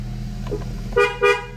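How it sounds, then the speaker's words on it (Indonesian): Two short horn honks in quick succession from a 2008 Nissan Livina, near and clear, over a low idling engine hum. "Klason juga berfungsi dengan baik."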